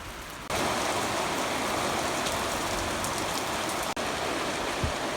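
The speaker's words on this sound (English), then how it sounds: "The rain looks heavier over that way to the southwest" Heavy rain pours steadily during an afternoon thunderstorm, a dense, even hiss of drops on surfaces close by, continuous and loud with no talk.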